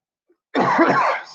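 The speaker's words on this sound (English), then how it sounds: "I have to cough" One harsh, throaty cough sounds up close after a brief silence, lasting under a second and fading out.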